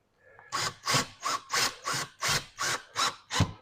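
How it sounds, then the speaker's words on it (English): Eight regular bursts of a power drill boring pilot holes into wood, each about a quarter second long, evenly spaced and close by. "I like to drill my pilot holes first to see if I'm correct about the wood."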